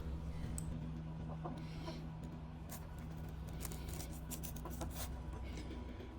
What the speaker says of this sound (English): You'll hear the background noise with the chickens running around while I'm carving